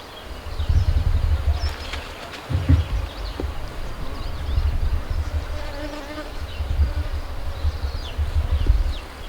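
Honeybees buzzing around an opened brood hive during a brood extension alteration, a dense close swarm hum that swells and fades, with occasional bees droning past the microphone.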